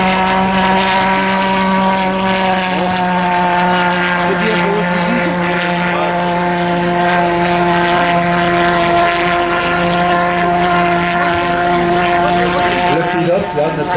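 Model airplane engine held at full throttle, a loud, continuous, high-revving drone with steady harmonics throughout, slight pitch shifts as the plane manoeuvres at an outdoor flying meet.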